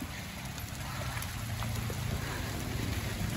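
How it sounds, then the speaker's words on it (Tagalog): Heavy rain pelts down around a resthouse amid strong wind, a loud, unbroken wash of drops striking surfaces nearby, with scattered sharper patters standing out from the steady roar. "Lakusog ang ulan."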